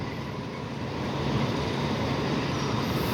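Ordinary train 257 crosses the River Kwai bridge in Kanchanaburi with a loud, continuous rail rumble and clatter of wheels on the span, heard close and without any voices.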